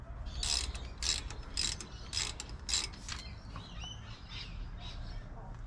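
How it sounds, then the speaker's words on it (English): A ratchet wrench tightens a brake caliper bolt back into place during a brake pad change, giving about five short bursts of rapid clicking up close, followed by quieter fiddling sounds. "Put that bolt back in."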